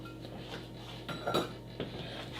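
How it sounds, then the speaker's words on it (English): A whisk stirs cornmeal into flour and baking powder in a bowl, giving soft, quiet clinks and light scraping against the sides, with a couple of slightly louder taps near the end. "Again, I'm going to use the whisk."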